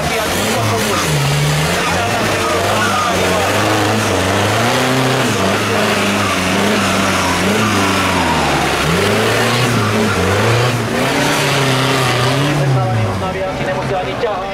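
Loud, sustained engine revving from a 4x4 competition tractor with a Fiat 1.9 TDI diesel at a rural tractor contest, pitch swinging up and down repeatedly while an announcer speaks over the roar.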